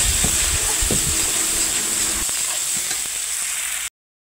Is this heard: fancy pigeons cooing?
no